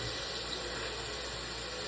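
Steady hiss of tap water running into a sink during a morning face wash, constant and even throughout with no voices.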